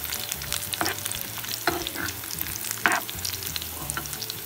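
Whole red chillies dropped into hot oil with golden-brown onion for a moong dal tempering crackle and sizzle steadily, broken by several sharp spoon scrapes against the pan.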